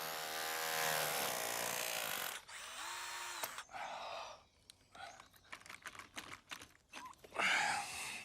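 A loud, close power drill whines and grinds in bursts, revving up and stopping repeatedly, with scraping and knocking between runs, drilling out an iron piece holding a pin in an old chateau stone wall.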